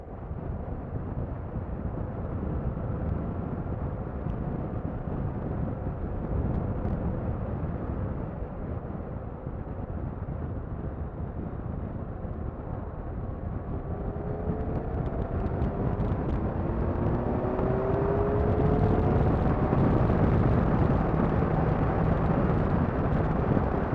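A 2016 Kawasaki Versys 1000 LT four-cylinder motorcycle pulls from 2,500 rpm in top gear, its steady engine drone mixed with wind rush and growing louder and fuller toward the end.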